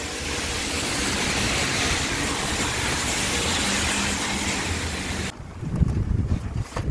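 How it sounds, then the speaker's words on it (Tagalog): Strong typhoon wind at landfall roars continuously into the microphone, a loud buffeting rush that cuts off abruptly near the end, leaving lower rumbling gusts. "ang lakas po ang hangin naglalandfall na po ngayon"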